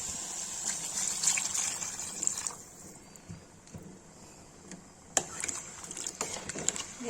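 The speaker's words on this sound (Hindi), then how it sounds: "इसमें पानी डाल देंगे।" Water poured into a pan of frying potato and soybean curry, a gushing, trickling stream with splashes that fades partway and returns, with faint background sounds and no speech.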